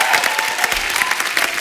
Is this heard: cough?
no